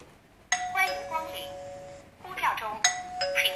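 A wifi video doorbell paired with a fingerprint smart lock sounds a bright, loud chime twice, each a ringing ding with a lingering tone, and a voice speaks briefly between the chimes.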